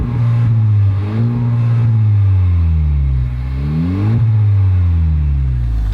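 A Honda Civic Type R with its stock exhaust idles loudly up close, then revs up and falls back twice in smooth rising and falling sweeps.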